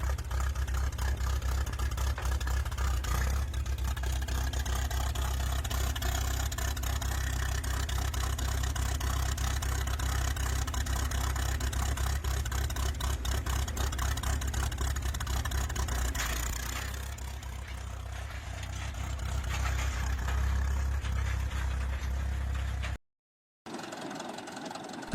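An antique McCormick-Deering 10-20 tractor engine, an early International Harvester design, runs steadily with a deep, low rumble. The sound briefly eases partway through, then picks up again before a short cut near the end.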